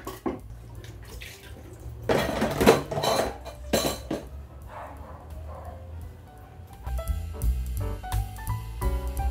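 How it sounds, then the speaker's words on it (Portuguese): Dishes, pots and cutlery being washed at a home kitchen sink while dinner is cooked, with clattering clinks and scrapes of metal and crockery, bursts of rinsing water, and quieter stretches between the handling noises. "lavando as vasilhas em menos de 10 minutos"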